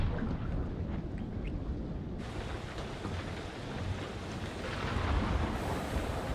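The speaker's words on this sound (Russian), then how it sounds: "Там шторм начинается" Thunderstorm in the horror game Man of Medan at sea: steady heavy rain and wind with a rolling thunder surge that swells partway through, continuous and fairly loud with no talking.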